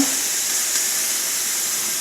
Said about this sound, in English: release the steam.